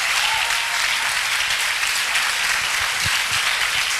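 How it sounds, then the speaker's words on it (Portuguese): Applause from a congregation at a church congress, steady and dense throughout, sustained clapping filling the room without pause. "Vamos aplaudir ao Senhor pela vida dele."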